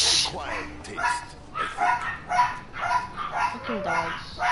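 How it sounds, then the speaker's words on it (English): Repeated barks and yips from dogs in a PS4 video game, several bursts in a quick irregular rhythm over about four seconds, fairly close and mid-loud. "Fucking dogs."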